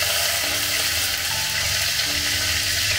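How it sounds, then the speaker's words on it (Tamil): Mustard seeds and urad dal tempering in hot oil make a loud, dense, continuous sizzle with a hissing roar and no talking. "கொஞ்சம் கடுகு உளுந்து போட்டு தாளிச்சிடலாம்."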